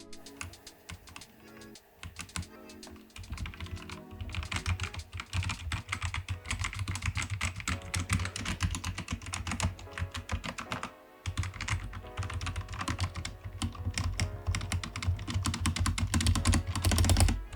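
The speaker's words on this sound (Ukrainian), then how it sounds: "для деяких важливо, з яким звуком натискаються клавіші, тому ось послухайте" Continuous rapid clatter of mechanical keyboard keys being typed, close and fairly loud, with a brief pause before resuming steady typing.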